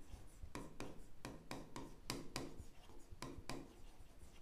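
Marker or chalk writing on a board in a mathematics class, with a string of short scratchy strokes in an uneven rhythm, close and fairly soft.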